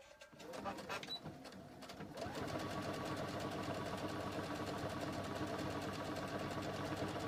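Sewing machine stitching knit fabric for little girl legging shorts, starting with a few short bursts and then running in a steady continuous whir, close and even, while a person talks throughout.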